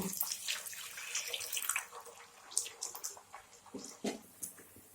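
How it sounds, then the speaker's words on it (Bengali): Water is poured into a cooking pan of simmering vegetarian mung bean and pointed gourd curry, a close splashing and sizzling hiss with uneven bursts. "এখন অল্প একটু জল দিয়ে দেব"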